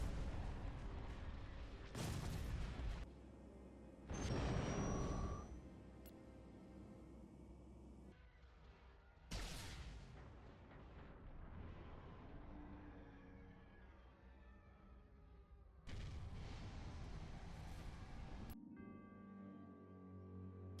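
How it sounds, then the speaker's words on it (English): Starship turbolaser batteries fire in the space strategy game Thrawn's Revenge, loud broadband bursts and booms recurring every few seconds over a steady rumbling battle backdrop, with no voices. "All batteries commence firing."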